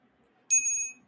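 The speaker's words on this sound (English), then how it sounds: "The bell rings, vibrates through the tuning forks, vibrates" A single bright bell strike at a sound healing session with crystal tuning forks and singing bowls, ringing out clearly and close, then fading over about half a second in a quiet room.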